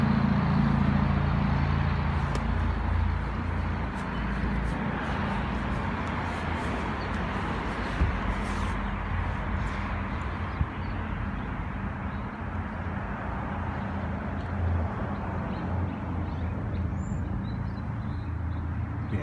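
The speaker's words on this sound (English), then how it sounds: "probably like the most cold start McLarens you ever seen in your life. 5 cold starts at once." Five 2018 McLaren 570S sports cars cold start together, a dense, loud, steady engine roar with heavy low bass holding throughout.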